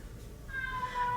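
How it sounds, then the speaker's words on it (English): Indoor cats give a brief, thin meow or two, fairly faint over a quiet room. "So many kitties!"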